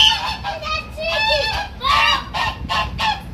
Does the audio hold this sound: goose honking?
yes